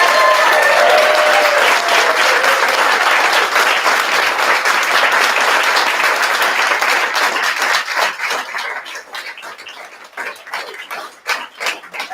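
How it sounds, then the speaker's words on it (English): Sustained audience applause at a naval ROTC commissioning ceremony, a dense wash of clapping from a large crowd that holds steady and then thins out toward the end. "please join me in a round of applause for the officers of the class of 2021"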